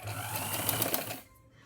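A sewing machine runs in a short close burst while stitching tucks into a blouse, its rapid needle chatter stopping abruptly near the end and leaving quiet.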